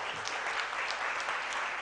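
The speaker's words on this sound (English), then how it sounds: "Please put a round of applause for you all people" Audience applause at a physiotherapy clinical-skills seminar, a steady wash of many hands clapping, dense and sustained for the whole moment with no voices on top.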